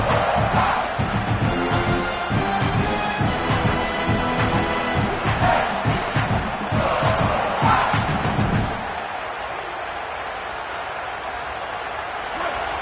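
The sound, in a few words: football stadium crowd roaring to fuel the defense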